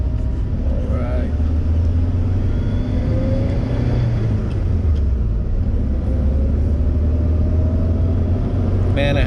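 A Toyota Corolla AE86 with a welded differential is driven, its engine a steady low rumble heard from inside the car, with a person talking over it.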